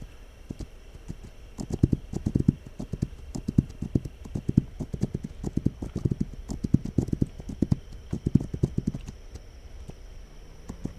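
Hooves thud in quick irregular bursts as horses run over ground, a clattering clip-clop rising and falling, moderately close.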